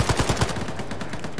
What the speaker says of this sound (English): Oh, the MiG's firing the cannon!